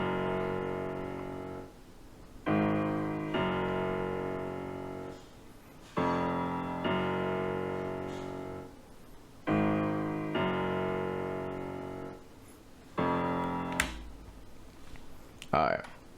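Beat pattern programmed in FL Studio, notes played in octaves: repeating sustained synth chords in blocks with short gaps, dry and alone, ending in a brief burst of clicks.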